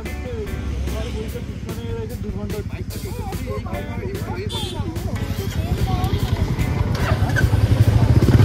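A group of motorcycles rumbles along a mountain road on a ride from Gangtok toward Nathula, the engine drone steady and swelling louder toward the end as people talk over it.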